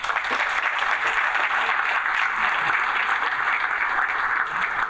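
Loud, dense audience applause at a Panamanian boxing history talk, continuous close clapping for several seconds with no break and no voices on top.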